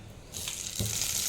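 Peanuts roast slowly in a drop of oil in a pan, a soft steady sizzle that swells after a moment and carries faint stirring scrapes, close and alone.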